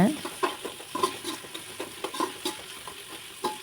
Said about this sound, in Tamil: நல்லா வணங்க விட்ருங்க குடமிளகாயை